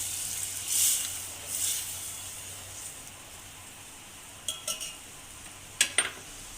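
A spoon stirs dal into a tempering in a cooking pot, making faint, soft scraping with a couple of brief swishes early on and a few light metallic clinks against the pot near the end.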